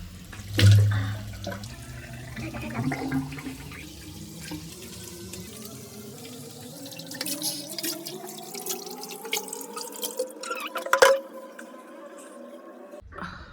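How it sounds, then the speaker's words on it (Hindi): Tap water runs into a bathroom sink during face washing, a steady splashing stream whose pitch slowly rises as the basin fills, with occasional louder splashes and drips. "पहले मैं मुंह वॉश कर लेती हूँ अपना।"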